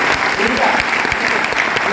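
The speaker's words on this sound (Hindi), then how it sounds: "बजा लो ताली के लिए" An audience at a training seminar breaks into loud, dense applause, many hands clapping together at once, sustained and close to the microphone.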